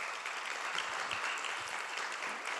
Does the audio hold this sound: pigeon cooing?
no